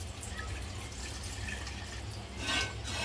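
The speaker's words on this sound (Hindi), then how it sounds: "यहाँ पर हम लोग इसमें दूध डालेंगे" Milk being poured into a blender jar for homemade watermelon juice, a steady close trickling liquid sound running throughout with a slight swell near the end, no talking.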